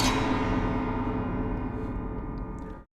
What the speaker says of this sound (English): This is a Norwegian folk instrument, but all the strings are completely detuned